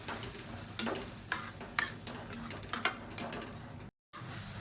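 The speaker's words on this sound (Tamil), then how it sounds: "இப்போ இதை நல்லா வதக்கி விட்டுக்கலாம் எண்ணெய் தெளிஞ்சு வரட்டும்" Tomatoes and curry powder cook in oil with a soft background sizzle broken by repeated sharp scraping and stirring clicks of a spatula against the pan, with a brief dropout near the end.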